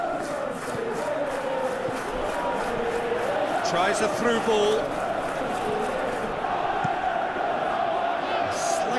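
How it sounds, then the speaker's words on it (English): A stadium crowd in a football video game keeps up a steady roar with swelling murmurs and shouts, heard continuously beneath a commentator calling the play. "you can feel and hear how the crowd are reacting to all of this"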